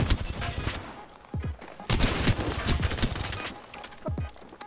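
Rapid bursts of gunfire from the video game Apex Legends crackle in clustered volleys with short gaps between them, loud and close, mixed with game effects.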